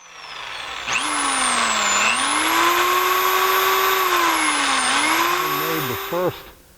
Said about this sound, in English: we're going to start with a small hole, small bit